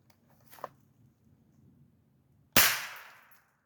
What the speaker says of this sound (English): Give off a little test shot.